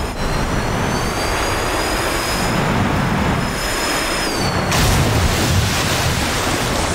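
An OV-10 Bronco in a video game roars steadily through a flat spin, with a continuous loud engine drone and a high whining tone that bends downward before the noise surges brighter, with no talking.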